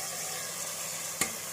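Chopped carrot, beans, cauliflower and potato fry in a pan. A soft continuous sizzle runs underneath, and a single sharp scrape or stir cuts in briefly near the end.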